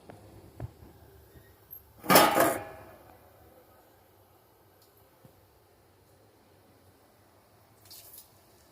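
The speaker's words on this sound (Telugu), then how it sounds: "ఇందులో బియ్యం వేసేద్దాం బాగా కడిగిన బియ్యం వేద్దాం" Washed rice tipped into a pot of boiling water for bagara rice: one brief, loud splashing pour lasting about half a second, then near silence with a faint clink near the end.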